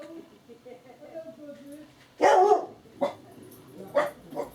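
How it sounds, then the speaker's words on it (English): Several dogs bark at home, one loud close burst followed by a few shorter barks and yips, with some whimpering in between. "my dogs are going to go crazy in a minute because next door are being noisy"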